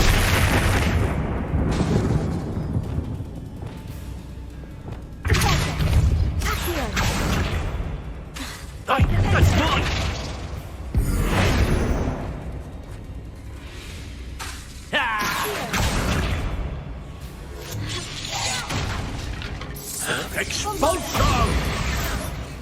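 Expulso blasting spells exploding during a duel in Hogwarts Legacy, repeated loud booming bursts with whooshes and rumbling debris, several heavy blasts across the stretch, with voices talking between them.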